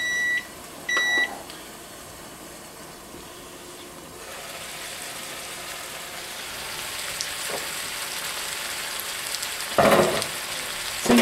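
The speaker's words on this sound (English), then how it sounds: "there's our timer" A kitchen timer gives a few quick, clear beeps near the start. Braised winter vegetables in beef broth and bacon dripping sizzle steadily on medium heat around it.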